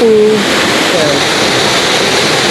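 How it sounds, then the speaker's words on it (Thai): A roaring, steady rush of water from a strongly gushing waterfall, loud and continuous throughout, with a brief voice near the start. "น้ำตกพุ่งมาแรงๆอย่างนี้เลยเห็นไหมครับผม"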